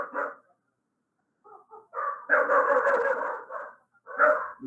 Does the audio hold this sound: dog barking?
yes